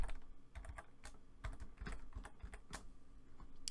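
Keys tapped on a computer keyboard to enter a coupon code on a shopping site, a steady string of distinct, close clicks at an uneven pace, heard alone without talk.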